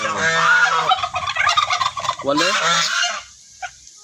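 A flock of newly hatched turkey chicks calling loudly and continuously, overlapping chirps and honk-like cries close by, fading to near silence with one last brief call.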